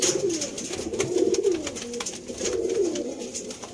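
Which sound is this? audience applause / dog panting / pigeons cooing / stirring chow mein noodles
pigeons cooing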